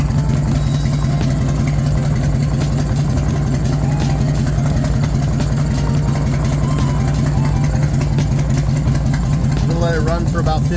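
An engine idles steadily after a clutch change, a loud, even low rumble that runs unbroken throughout, with a faint voice near the end.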